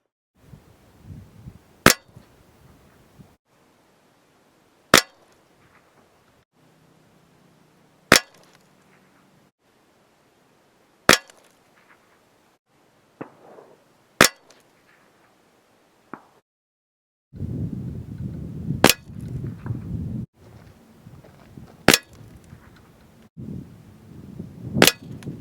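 A Walther Dominator 1250 air rifle with a Hawke Panorama EV scope fires eight sharp, loud cracks spaced about three seconds apart, quiet between shots at first, later over a steady low background rumble.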